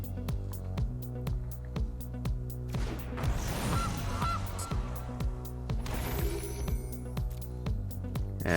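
A goose honks over and over in a loud, flapping burst as a sound effect in the digital card game Magic Arena, set against a steady rhythmic game music loop.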